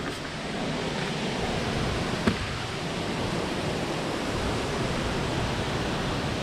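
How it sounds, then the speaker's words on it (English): The waterfall at Rio Espiritu Santo in Rio Grande, Puerto Rico, gives a constant broadband rush of falling water, steady and fairly close, with no voices over it. "That's your waterfall right there."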